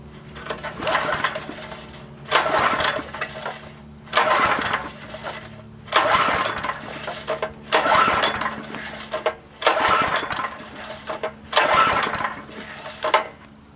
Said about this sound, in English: Probably going to take a few pulls because I doubt there's any gas up in the carburetor.